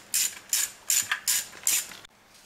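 A ratchet loosens oil pan bolts on a BMW E46 M3 with an S54 engine, five quick bursts of clicking close by, then a stop.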